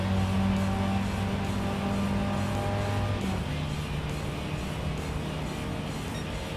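Engine of a Volkswagen Golf GTI in Gran Turismo 7, droning steadily at high revs with a shift partway through and continuing at a lower pitch, close and loud with no talk.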